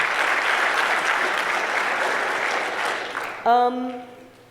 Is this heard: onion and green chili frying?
no